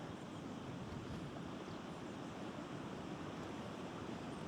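Water from a reservoir overflow trickles and rushes steadily at the edge of the Lake District, a continuous close wash of noise with no talking.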